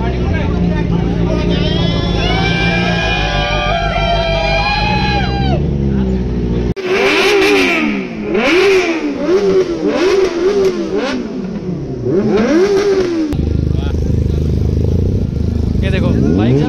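Superbikes rev their engines hard, with loud rising and falling engine pitches sweeping up and down in repeated bursts, close by, mixed with crowd babble and voices throughout.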